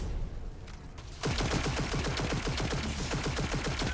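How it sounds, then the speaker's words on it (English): Gunfire and grenade blasts erupt in Destiny 2, a quiet stretch giving way to a loud dense burst of rapid repeated shots and explosions that continues to the end. "Man, these grenades are always epic."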